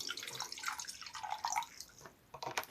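Nine-percent vinegar is poured into a cucumber pickling marinade, giving a close, trickling splash with uneven dribbles that trail off and then briefly resume.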